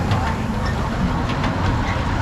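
An amusement park train ride at Duinrell rumbles steadily and loudly up close, a continuous rolling clatter with a faint voice mixed in.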